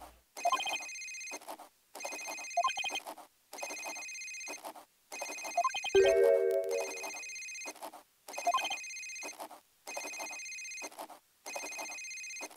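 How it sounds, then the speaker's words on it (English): Electronic telephone ring from the Ace Attorney: Dual Destinies video game, repeating in regular bursts of about a second with short gaps, clear and steady, with a brief chime-like tone layered in midway. "Why is the other one ringing?"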